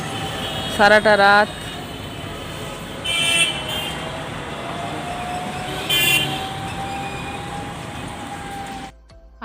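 Kolkata street traffic with buses, trams and cars honking: a loud rapid burst of horn beeps, then two more long horn blasts over a continuous traffic rumble, while someone talks briefly.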